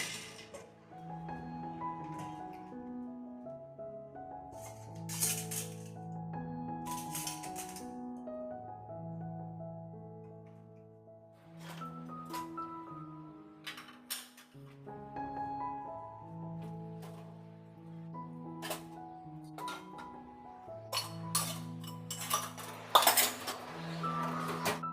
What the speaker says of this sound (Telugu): ఇంకా నైట్ కడిగిన గిన్నెలన్నీ ర్యాక్స్‌లో సర్దేస్తున్నాను.